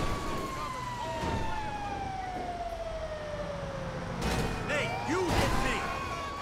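A police car siren in the GTA 5 video game wails continuously, sliding slowly downward in pitch, with other siren tones and a few thumps and street noises joining near the end.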